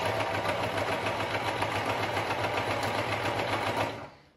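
A Privileg Super Automatik domestic sewing machine stitches steadily with a twin needle, a fast even mechanical whirr close by that runs unbroken and then winds down at the end.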